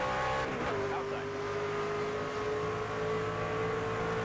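A race car in the NASCAR 25 video game accelerating up through the gears at a green-flag restart, its engine a steady loud whine that climbs in pitch, with a commentator's voice over the roar.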